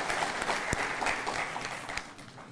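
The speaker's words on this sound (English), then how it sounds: "Could we give them a round of applause?" Steady applause fills a convention hall for the Global Peace Convention hosts, moderately distant and even, with a few sharper claps standing out.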